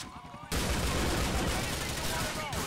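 Gunfire in Grand Theft Auto IV: The Lost and Damned erupts abruptly after a quiet moment into a loud, dense burst of rapid shots that continues without pause to the end.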